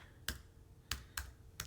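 Four sharp, separate keystrokes click on a computer keyboard, sparse and irregularly spaced, faint and close, with no voices.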